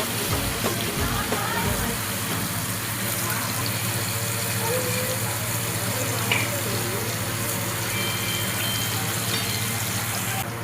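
Tambavshi fish, coated in semolina and masala, sizzles on a hot tava with a steady, close hissing crackle that lasts throughout, while a voice speaks occasionally over it.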